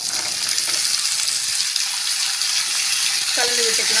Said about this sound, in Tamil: நம்ம கட் பண்ண உருளைக்கிழங்க சேர்த்துடலாங்க.